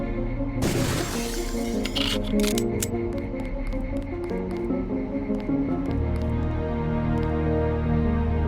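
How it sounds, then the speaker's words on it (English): An office chair smashing apart in the Deus Ex: Revision video game, a sharp crash with splintering debris followed by a scatter of small clicks and clatter fading over several seconds against a steady low hum. "your office chair sounds like a plastic cup and then smashes like it's made of balsa"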